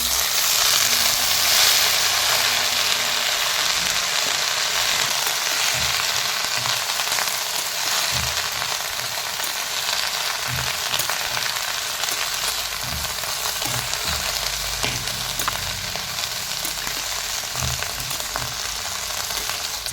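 Chopped radish greens hit a pan of oil with onion and green chili already browning, setting off a loud, steady sizzle with scattered clatter from stirring, continuous for the whole stretch and free of talk.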